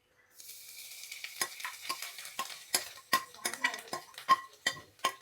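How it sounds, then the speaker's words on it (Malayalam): Cashews and raisins are roasted in ghee in a pan, with a soft sizzle under repeated sharp scrapes and clinks of a spoon stirring against the metal, close and uneven in rhythm. "അതിലേക്ക് നമുക്ക് കാഷ്യൂം കിസ്മിസും ഇട്ട് കൊടുത്തിട്ട് നന്നായിട്ട് ഒന്ന് വഴറ്റി റോസ്റ്റ് ചെയ്തെടുക്കാം"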